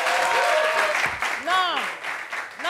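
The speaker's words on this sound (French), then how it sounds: "Applaudissements pour vous." Audience applause at a gathering in La Réunion, a dense wash of clapping mixed with cheers and overlapping voices, fairly close and loud throughout.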